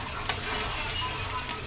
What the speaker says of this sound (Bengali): ব্যাস দিয়ে এবার ভালো করে মশলাটা আবার কষাবো বাকি মশলাগুলোর সাথে।